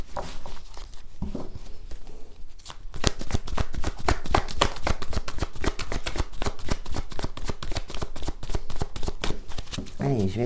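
Thelema tarot cards shuffled in a rapid, steady riffle of crisp slaps that runs nearly the whole time, loud and close, with a soft hand sound at the start before the dense run begins.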